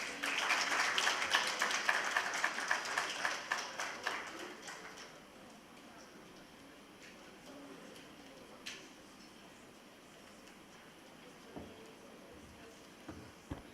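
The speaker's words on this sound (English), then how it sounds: "can we get another round of applause, please?" An audience at a learning event in Dhaka applauds after a speech, with dense, loud clapping for about five seconds that tapers into a quiet room broken by a few scattered taps and knocks.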